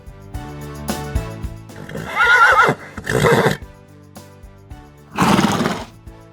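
A horse neighs in three loud whinnies, each a second or so long and separated by short pauses, over a quieter background of music-like tones.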